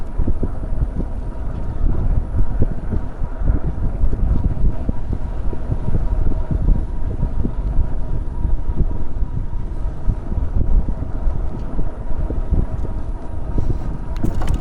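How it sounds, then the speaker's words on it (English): Wind roars across the microphone while riding a Kingbull LiteRider 2 e-bike outdoors in Florida, a loud, constant rumbling buffet that lasts throughout with no talking. "I can definitely feel the wind coming this direction"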